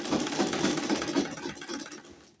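A sewing machine hems a dress with bias tape, running in a steady close, loud whirring stitch with a rapid even pulse that fades off as it stops.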